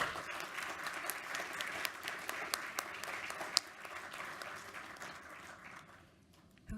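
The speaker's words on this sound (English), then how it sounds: "Can we get a round of applause for them?" A conference audience applauds a panel on electricity market rules, with sustained dense clapping and a few sharp claps standing out, tapering off near the end as a voice begins faintly.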